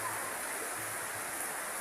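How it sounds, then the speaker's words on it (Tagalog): Heavy rain pours in a dense, steady hiss, constant and fairly loud throughout with no other sounds standing out. "Biglang kaliliwanag ay biglang lumakas yung buhos ng ulan."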